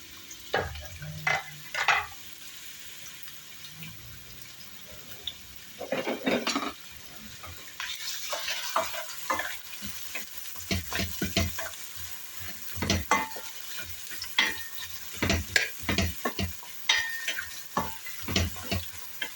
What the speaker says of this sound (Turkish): Soğanım ve havucum bir güzel kavrulsun.